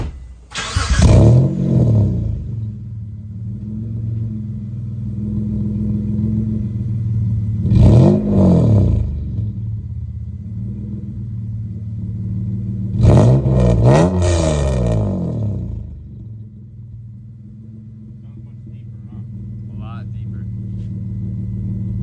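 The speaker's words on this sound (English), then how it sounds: "So we're gonna go ahead and rev it, let you hear it, and then take it for the test drive." A Dodge Stealth R/T with a full performance exhaust revving at idle, three loud throaty blips that rise and fall sharply, separated by a steady rumbling idle, heard close up.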